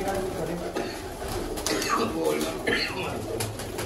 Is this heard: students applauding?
no